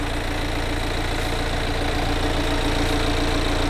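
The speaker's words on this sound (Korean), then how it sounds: "엔진 소리 일정하네요" A BMW 2 Series Active Tourer (F45) engine idles steadily and evenly, a constant mid-low rumble with no revving and no voices.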